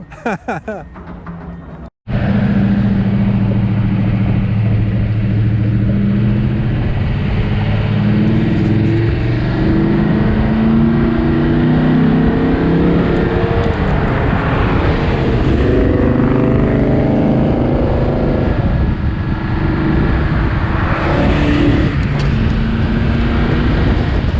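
A 1968 Dodge Coronet R/T muscle car engine rumbles loudly and steadily while driving, its deep tone climbing and shifting through gears, close and continuous after a short opening of other noise.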